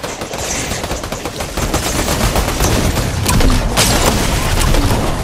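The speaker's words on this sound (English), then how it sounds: "I'm gonna try and snipe him with like purple sniper." Dense, loud gunfire from a purple sniper rifle and other weapons in Fortnite Battle Royale crackles in a rapid stream of sharp reports, continuous over several seconds with a few louder cracks standing out.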